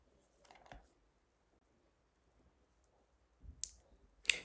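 A few sharp computer mouse clicks, close and quiet, spaced apart with silence between them and two louder clicks near the end.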